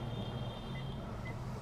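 Reverse gear beeping on a 2023 Maruti Suzuki Baleno comes as a thin, repeated electronic tone sitting over a low, steady hum, fairly quiet and with no talk.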